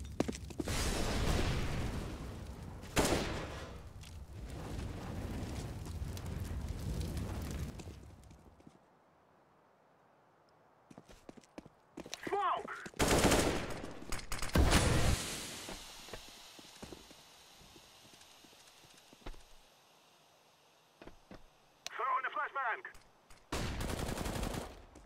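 Gunfire in an online competitive shooter match on Gamers Club, a Brazilian platform, sounds as sharp bursts of shots, some in rapid runs, separated by quieter gaps with faint footsteps and game effects, fairly distant and moderate in level.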